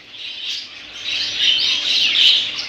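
Dense, continuous chirping and twittering from a flock of budgerigars, fairly close and steady throughout.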